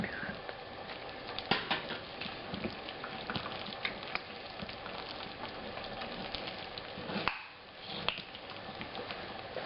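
Water runs steadily into focaccia pugliese dough as it is being mixed, a continuous close splashing trickle like a tap pouring, with a few brief louder splashes and a short dip near the end.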